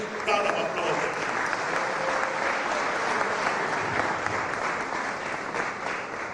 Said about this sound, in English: And that also deserves a big round of applause.